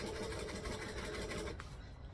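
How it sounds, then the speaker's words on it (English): A sewing machine top-stitches across the bottom of a boxy bag with a fast, steady mechanical whirring that stops near the end, close up and without talk. "we're going to stitch 1/8 of an inch from that center seam"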